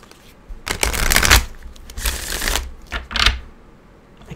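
Tarot cards riffled and shuffled by hand in close, dry bursts of papery flutter, three main runs separated by short pauses.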